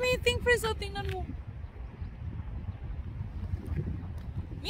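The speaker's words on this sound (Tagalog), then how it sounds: "Lakas ang hangin, grabe." Strong cold wind buffets the microphone outdoors among cherry blossoms in South Korea, a steady loud rumbling gust that continues after a brief voice at the start.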